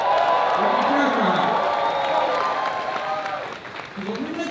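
A rally crowd applauding and cheering for AOC, a steady wash of clapping with scattered whoops that thins slightly toward the end, heard under a speaker's voice.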